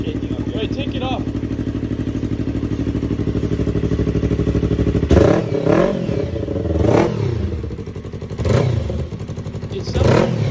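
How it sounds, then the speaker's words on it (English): A Yamaha R3 engine on a shifter kart idles steadily and then revs hard in several bursts, with loose metal rattling and clattering loudly up close; people talk over the engine. "It's the metal shaking up here."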